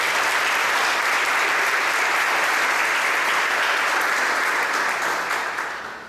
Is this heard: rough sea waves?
no